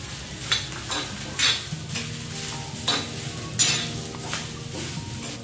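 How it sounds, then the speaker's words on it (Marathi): Grated fresh coconut and onion roasting in a pan, a soft continuous sizzle broken by periodic scraping stirs of a spoon against the metal, close and without voices. "आता हे ओलं खोबरं आणि कांदा व्यवस्थित मी खरपूस भाजून घेते"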